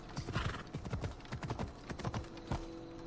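Galloping horse in the Assassin's Creed Odyssey video game, a rapid, close rhythmic clatter of hoofbeats throughout, loud and steady, with a few heavier thuds and no talking.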